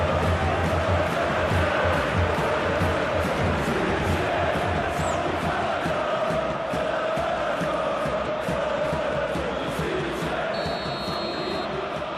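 A dense stadium crowd roars and applauds throughout a PES 2021 football video game match, loud and continuous, with rhythmic claps and chanting in the background.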